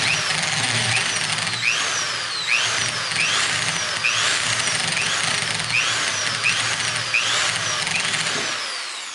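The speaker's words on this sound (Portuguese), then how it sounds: "Broca de 3 mm sempre da espessura do arame para não ficar com folga. Faço o furo." An electric drill with a 3 mm bit bores a hole while building a model airplane, whining steadily with repeated rising-and-falling pitch sweeps as the speed is pulsed, close and continuous for several seconds.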